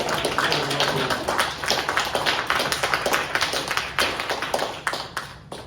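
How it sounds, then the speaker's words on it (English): Audience applause at the Darkhorse Theater in Nashville during a live performance and conversation event, a dense steady patter of many hands clapping close by, sustained throughout with slight swells and no talking over it. "So please give a round of applause for the Darkhorse Theater."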